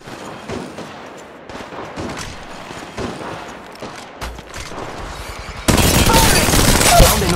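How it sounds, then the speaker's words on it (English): Scattered gunfire pops in a shooter video game, irregular shots at mid distance, followed by a sudden loud, dense burst of sustained firing near the end. "Shots fired at me."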